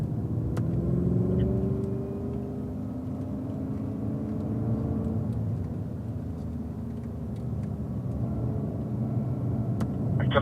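A Cadillac CTS-V engine drones as the car accelerates down a race track straight, a loud, close rumbling note with rising harmonics early on, then a steady roar with road and wind noise throughout.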